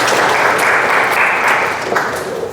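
A room of listeners at a lecturer certification teaching session gives a steady, fairly loud round of clapping that runs on evenly without voices.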